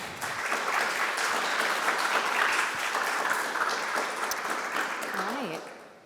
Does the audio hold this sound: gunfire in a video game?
no